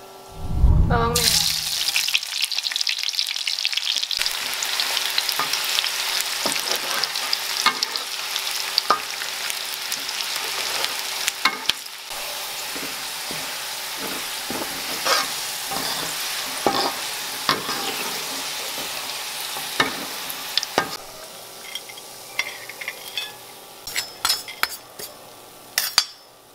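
Shallots hit hot oil for Balinese sambal embe with a loud initial sizzle, then fry steadily while a utensil scrapes and clinks against the pan in frequent stirring strokes.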